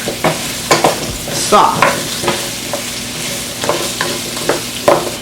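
Seasoned potatoes are stirred in a pot over the heat, with a soft sizzle beneath repeated close, loud scraping and clattering strokes of a spoon, and a brief word spoken.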